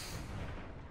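A grenade detonates in the sci-fi shooter Destiny, a dense, loud, sustained roar filling the whole second with rumbling low end.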